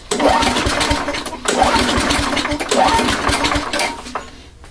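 An engine cranks over during a compression test with a pressure gauge fitted, giving a rhythmic whirring, chugging starter sound in three repeated bursts, close and fairly loud, with no speech.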